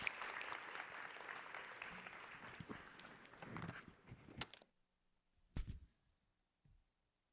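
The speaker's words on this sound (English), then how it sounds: "A round of applause for them." Audience applause at a family planning conference plenary, a dense steady roar of many hands for several seconds that then breaks off into near silence with a couple of stray claps.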